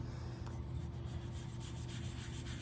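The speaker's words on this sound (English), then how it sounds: "So to do that, you just get a nice little wet sponge" A wet sponge rubs dried glaze off the base edge of a ceramic leaf dish, making a close, steady, soft scrubbing sound without a break and with no talking.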